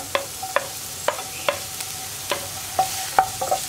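Onions with ginger sautéing in a pan for a Kerala vendakka poriyal, a soft steady sizzle broken by repeated scraping stirs and a few light metallic clicks, close and moderately quiet with no voices.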